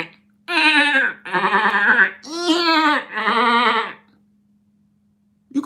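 Sheep bleating in a run of four or five loud, wavering harmonic calls, one after another and close by, with a faint steady hum underneath and no voices.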